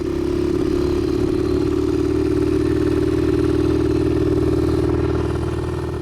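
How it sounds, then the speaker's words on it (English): A 48-year-old Honda XR75 motorcycle engine running steadily and loudly close by, its four-stroke note labored and heavy, straining without revving out cleanly, with a continuous low clatter throughout. "The engine is straining and doesn't want to clear out."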